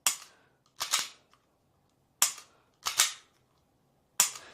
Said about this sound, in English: I want to go ahead and dry fire just a quick few times